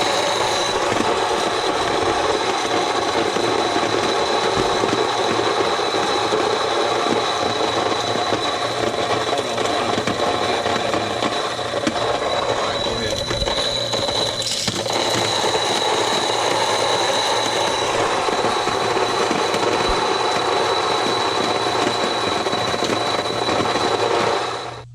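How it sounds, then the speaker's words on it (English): Electric grain mill grinding corn into grits, a loud, continuous motorized roar with a steady whine and gritty rumble that runs without a break for about twenty-five seconds before stopping. "Now, I want them to see this being milled. It's kind of loud"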